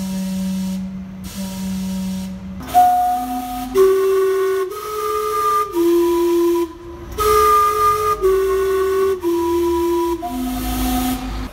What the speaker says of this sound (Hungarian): Bizonyos időközönként gőzt lövel ki egy dallam kíséretében,